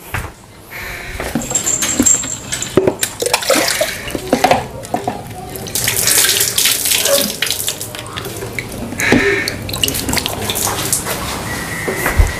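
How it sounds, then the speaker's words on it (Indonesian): Hands being washed under a running tap, a steady splash of water with intermittent clatter and knocks, fairly close and continuous throughout, with a few faint bird sounds mixed in. "gue cuci tangan dulu deh"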